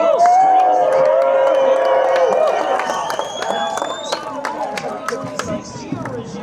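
Loud crowd screams and cheers rise at Pocono Raceway as fans roar for a NASCAR win, the dense shouting swelling early and then thinning slightly, with whoops and voices mixed into the din.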